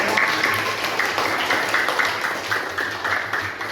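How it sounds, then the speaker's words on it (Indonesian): Classroom applause for a student returning to his seat during a teaching session, a steady wash of many hands clapping at moderate loudness that holds evenly throughout. "kita beri tepuk tangan"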